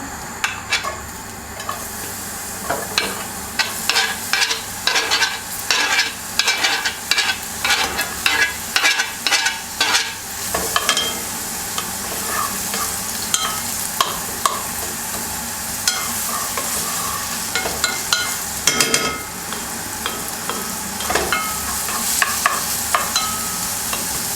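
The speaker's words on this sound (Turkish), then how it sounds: "Şimdi yeşil fasulyemin soğanını kavuracağım." Onions sauté in olive oil for a green bean dish, giving a steady sizzle and crackle from the pan. Repeated scraping from stirring is heard close by, and no one talks.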